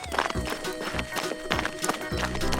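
A horse whinnies over quick, rhythmic hoof clip-clops, loud and close, with bright cartoon-like music running underneath in a short busy burst.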